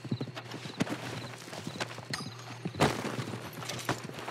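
A horse arrives in Red Dead Redemption 2, its hooves clip-clopping in an irregular series of close, sharp strikes over a quiet ambient hum, with a louder burst near the end.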